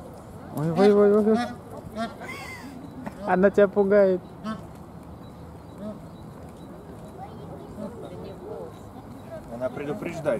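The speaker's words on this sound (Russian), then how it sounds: "Утка идет и кричит вот это вот." Two loud bursts of harsh, repeated duck calls, followed by quieter outdoor background, with a person talking nearby.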